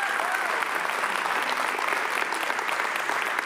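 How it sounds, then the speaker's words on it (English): A church congregation applauds its worship team, a steady, dense wash of many hands clapping from start to finish at moderate loudness, with no voices rising above it. "Give these guys one more big round of applause."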